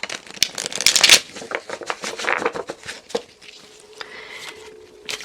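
Tarot cards are shuffled by hand in quick riffling, flapping bursts, loudest early on, then thinning into scattered soft taps and slides as the deck settles, with no voices.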